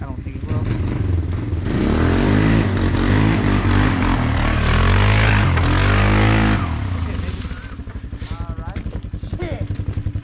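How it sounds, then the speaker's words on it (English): A four-wheeler ATV engine revs hard and strains while climbing a steep dirt hill. The roar surges loudly, then settles into a rough, pulsing idle as people talk over it. "Think that fucking four-wheeler will make it up that?"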